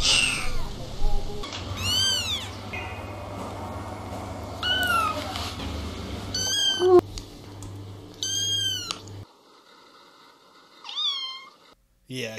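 Kitten meowing in several separate rising-and-falling cries, close and fairly loud, scattered over a low background hum that cuts out partway through.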